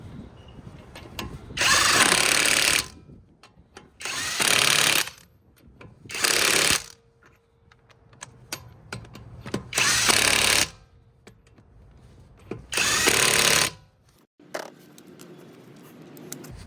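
An Alloyman 1/2 inch impact gun on its second power level hammers lug nuts in five loud, buzzing bursts of roughly one to one and a half seconds each, separated by quieter workshop pauses, with no voices.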